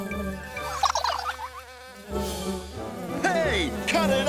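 Cartoon robot bees buzz close by, their whining drone wavering and swooping in pitch, louder toward the end.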